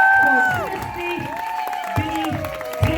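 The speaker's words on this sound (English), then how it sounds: "Big round of applause." A live audience claps and cheers loudly at a social event, a dense burst of applause and whoops that fades slightly, with a voice speaking over it.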